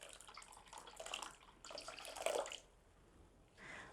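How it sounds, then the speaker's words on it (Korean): Hot water poured onto tea concentrate to make a dye bath for natural yarn dyeing, a soft splashing, trickling pour in a few uneven bursts with pauses between, close but quiet, with no voices. "차 원액에 뜨거운 물을 부어서 천이 잠길 수 있을 정도로"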